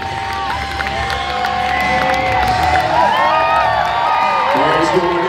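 A crowd at a record-breaking event cheers and whoops for several seconds, growing louder, with shouting voices and a melodic whistle or horn rising over the noise.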